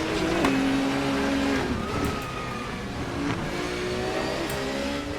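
BMW race car engine in the Assetto Corsa racing game, a continuous loud racing engine note rising and falling with gear changes, with other cars and tire noise mixed in throughout.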